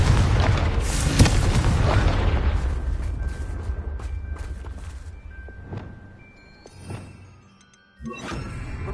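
A Confringo blasting spell from the Hogwarts Legacy video game sets off a loud, booming explosion with a shattering crash at the start. A long rumbling decay follows, broken by a few smaller thuds and impacts.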